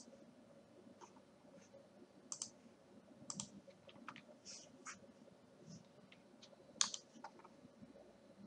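Keys tapped on a computer keyboard while a password is entered during antivirus setup on a PC, giving scattered, irregular clicks over a low room hum, quiet and close.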